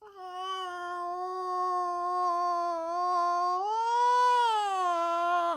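A human voice imitates the noise of a failing AIO liquid cooler in a computer, producing a sustained, wavering, high-pitched whine like a dying cat that rises in pitch near the end, loud and alone.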